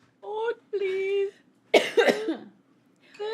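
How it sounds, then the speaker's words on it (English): A person gives a harsh, congested cough, a short burst of rough hacking between stretches of nearby casual talking. "Oh my gosh, this cough is killing me."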